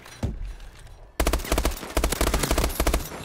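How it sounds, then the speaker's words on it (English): Rapid automatic gunfire in Call of Duty Advanced Warfare, loud bursts of shots after a brief quieter lead-in, firing in tight repeated volleys with no talk over it. "Stop shooting at me!"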